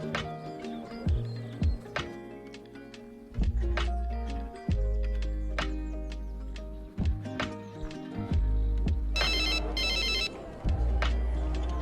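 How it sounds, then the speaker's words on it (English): A telephone ringtone plays loudly in an animated story, a repeated melodic ring pattern with bursts of bright trilling, continuing for about twelve seconds without speech. "I need to go take this phone call."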